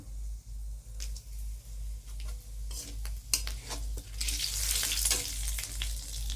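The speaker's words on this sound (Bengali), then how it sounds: "এবার তেলে দেব দুটো শুকনো লঙ্কা ফোড়ন আর একটু গরম মশলা। একটু গোটা গরম মশলা দিয়ে দিলাম।" Dried red chillies and whole garam masala sizzle and crackle steadily in hot oil, the frying hiss swelling louder toward the end, with a low hum beneath and occasional stirring clinks of a utensil against the pan.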